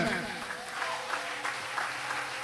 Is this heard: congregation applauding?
yes